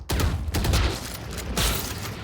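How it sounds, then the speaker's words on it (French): A sniper rifle shot in a tactical shooter round after the spike is planted, heard as a few loud broadband cracks and booms with rumbling tails, spaced about half a second to a second apart, no talk. "le bruit du sniper, il est bizarre"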